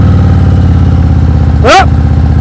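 A motorcycle engine idles and putters steadily at low speed during a slow-speed riding practice session in Maryland, with a short rev that swells and falls near the end.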